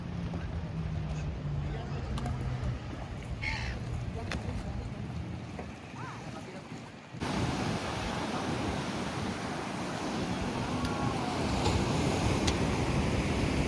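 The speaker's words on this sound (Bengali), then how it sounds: "সমুদ্রের ঢেউটা থাকে একটু আলাদাভাবে।" Broad, steady sea wash at Kiama harbour on the coast near Sydney, Australia, where private boats sit moored, a continuous surf roar with wind that swells louder in the second half, with talk over part of it.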